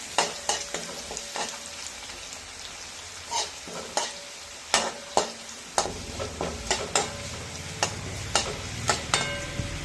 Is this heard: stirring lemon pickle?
yes